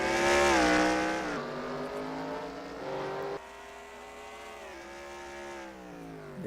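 NASCAR Cup Series race cars on the Mid-Ohio road course, engines loud and close with rising and falling revs as several cars pass and shift in turn, no voices over them.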